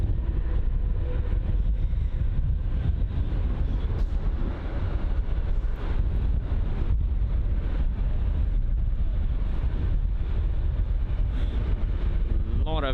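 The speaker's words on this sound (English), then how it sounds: "Is very, very windy." Strong, gusty wind at London Heathrow airport batters the microphone with a continuous, loud, broadband roar that blends with distant aircraft and vehicle rumble, and a voice talks faintly underneath.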